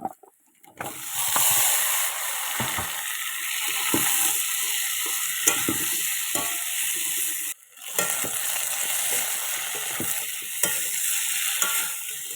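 Chilies and spices frying in a pan for a fish curry, a steady close sizzle and hiss with occasional stirring scrapes and a brief drop in intensity partway through.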